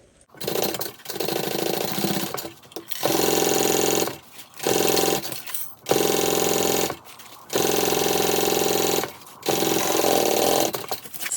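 A sewing machine stitches a handbag lining panel in bursts of steady, rapid whirring, about seven runs of a few seconds each separated by short pauses, loud and close with no talk.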